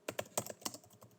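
Quick bursts of keystrokes on a computer keyboard, a handful of sharp, close clicks in an uneven rhythm, with no voice present.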